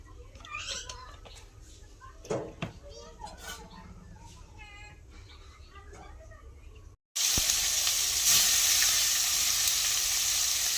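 Pangas fish frying in a pan bursts into a loud, steady sizzle partway through, after a quieter stretch of children's voices and kitchen clatter.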